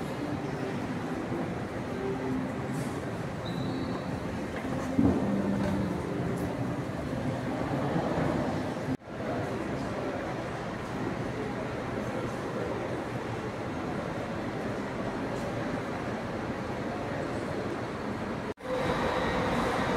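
A Viação Cometa coach bus pulling in to platform 14 at a São Paulo bus station, a steady loud engine rumble and rolling drone over station hubbub, with no clear speech.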